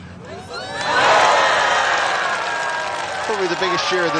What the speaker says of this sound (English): Probably the biggest cheer of the day